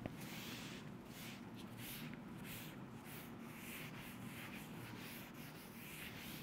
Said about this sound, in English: let me rub this part